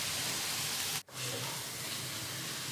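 Washed, turmeric-coated chicken pieces drop into a pan of onions and sizzle steadily, a soft continuous frying hiss broken by one brief pause, with no talk.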